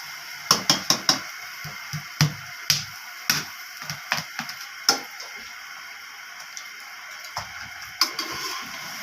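Dry macaroni dropped into a pan of fried masala: a quick run of sharp clicks and light taps as pieces land, then scattered ticks, a short quiet gap and a few last clinks.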